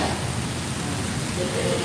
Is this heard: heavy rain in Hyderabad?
yes